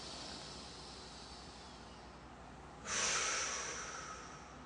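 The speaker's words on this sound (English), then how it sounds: "we're going to breathe in the nose and out the mouth" A slow, audible inhale through the nose during a guided breathing exercise, a soft airy rush that swells suddenly and then tapers off, close and alone.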